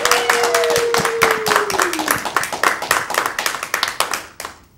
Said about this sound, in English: Ladies and gentlemen, big round of applause for Gary Dahl.